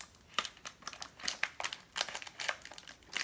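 Sticky tape crinkling and tearing as it is peeled off an iPod 4 charger and cut with scissors, a steady run of close crackling bursts with no talk.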